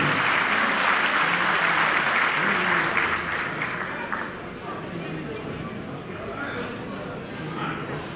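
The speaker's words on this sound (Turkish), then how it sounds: "Sayın Mehmet Ersoy Vekilimizi kuvvetli alkışlarınızla kürsüye davet ediyorum." Strong applause from an audience at a Sinop community event in Istanbul as a member of parliament is invited to the podium, loud at first and then gradually thinning and fading over the final seconds.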